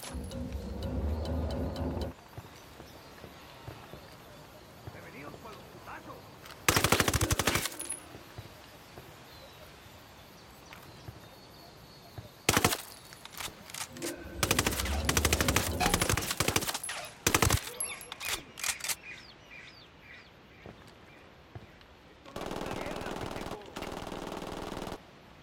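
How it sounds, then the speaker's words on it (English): Loud bursts of automatic gunfire in Ghost Recon Wildlands, mission 2 on PS4. Short volleys come in separate clusters between quieter gaps of ambient game sound, with some voice in the background. "Opening fire."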